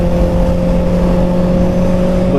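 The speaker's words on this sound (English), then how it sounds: "And it has a quick shifter, so look, I don't have to use the clutch." A 2024 Kawasaki ZX6R 600cc sport motorcycle accelerating with a quick shifter, a loud, steady engine drone with a constant pitch heard close up from the rider's position, with no talk.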